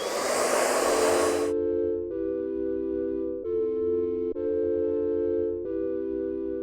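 A hair dryer blows steadily, its broadband rush cutting out after a second and a half to leave a low motor hum with a few brief dips.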